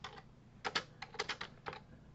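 Someone types on a computer keyboard while writing Python code, producing quick bursts of close, clicky keystrokes separated by brief pauses, with no voices.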